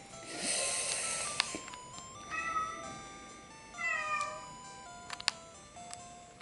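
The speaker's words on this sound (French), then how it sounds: "C'est rien, c'est mon chat," A domestic cat meows several times in drawn-out, rising-and-falling calls, fairly close and clear against a soft background hiss, with short pauses between the cries.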